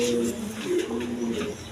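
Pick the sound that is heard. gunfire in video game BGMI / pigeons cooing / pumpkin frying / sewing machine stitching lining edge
pigeons cooing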